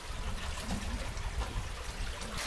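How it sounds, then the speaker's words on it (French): A stream of water flowing through an old mine gallery, a steady close rushing and trickling wash with no breaks. "Et mais ce ruisseau quoi"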